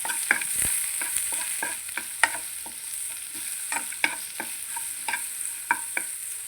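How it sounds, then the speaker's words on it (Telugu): Grated radish curry with turmeric fries in oil, with a light sizzle under frequent spatula scrapes and taps against the pan at an uneven rhythm, close and clear. "పసుపు వేసి ఒక్కసారి ఫ్రై చేద్దాం"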